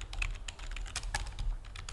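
Rapid typing on a computer keyboard while entering a web address into HTML code, with a steady run of close, crisp key clicks and no talking.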